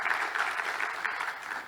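An audience at a central bank governors panel applauds steadily, a dense wash of clapping from many hands at moderate volume, sustained throughout without voices over it.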